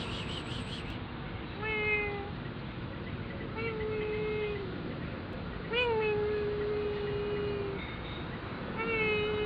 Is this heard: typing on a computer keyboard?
no